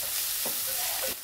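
Finely chopped onions are stirred into hot tempering oil in a pan for a village-style gram flour zunka, giving a short burst of sizzling with scraping stir strokes, close and alone.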